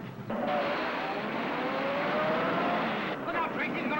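A car roars past at speed, a loud continuous engine rush rising and holding, with a voice speaking over it.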